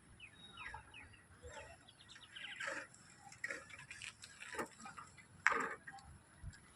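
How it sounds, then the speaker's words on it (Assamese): A clock at Jorhat Town railway station ticks with faint, irregular clicks in a quiet station ambience, with light bird chirps scattered around it. "ৰেল ষ্টেচনৰ ঘড়ী"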